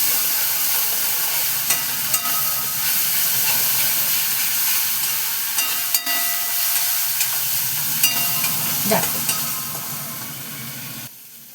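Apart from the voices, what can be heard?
spice masala frying in oil for fish kachori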